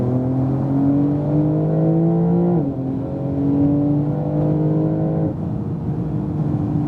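A 2018 Porsche 911 Turbo S accelerates through a corner on a race track, its engine note rising steadily and loud, with two brief gear-shift dips before climbing again.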